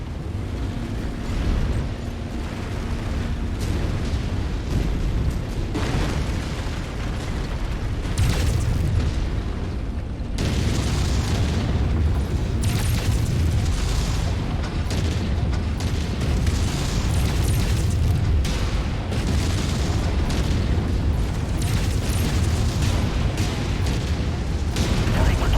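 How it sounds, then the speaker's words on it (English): Loud, continuous battle din of mech explosions in the MechWarrior 5 video game, with repeated heavy booms and bursts layered over dense rumbling combat noise throughout. "Commander's kill is about to explode."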